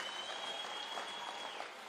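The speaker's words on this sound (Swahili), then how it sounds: "mpigieni makofi" A crowd at a Kenyan political address by William Ruto claps steadily for a government minister, a dense, even wash of applause heard from some distance, fairly faint.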